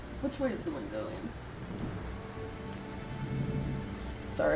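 Rain falls steadily outside an open office window during a windy thunderstorm, with a low rumble of thunder early on; a soft continuous hiss of drops, moderately distant and quiet, with faint voice-like sounds at the start.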